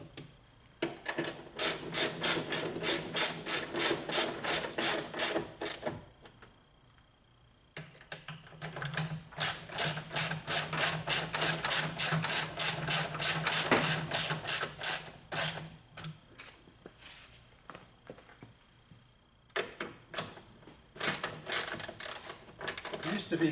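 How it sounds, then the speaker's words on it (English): Bolts on a component board being snugged up during an electric-vehicle conversion from DC to AC, heard as loud bursts of fast ratcheting clicks in long runs, with brief pauses between tightening passes. "I just started the bolts. We'll start to snug these up."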